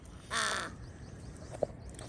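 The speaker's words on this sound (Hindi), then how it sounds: "कौवा।" A single crow caws once, a short harsh call close by, followed by quiet outdoor background with a brief faint tap.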